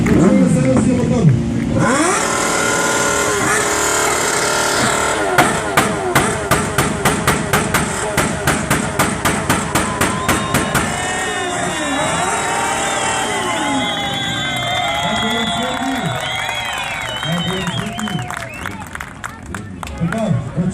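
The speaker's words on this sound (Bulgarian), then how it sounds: "Така, да чуме следващия мотор." Motorcycle engines rev hard at a loudest-bike contest, the pitch climbing and falling in repeated bursts with a stretch of rapid, even pulses, while a crowd murmurs and people talk throughout.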